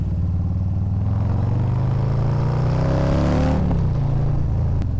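A Harley-Davidson Low Rider ST motorcycle with a 131 cam rumbles loudly up close, its deep V-twin note rising as the engine revs, then dropping back to a throbbing idle.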